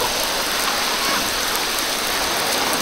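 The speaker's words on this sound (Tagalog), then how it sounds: "Sobrang lakas na ng ulan." Heavy rain pours steadily in the Capalonga countryside, a dense continuous hiss of drops drumming on surfaces, loud and close, with no speech over it.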